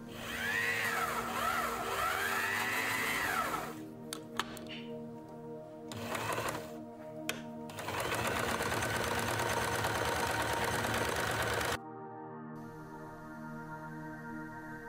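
A used sewing machine runs its bobbin winder with a steady, high motor whine that stops briefly twice, resumes, then drops to a quieter hum near the end.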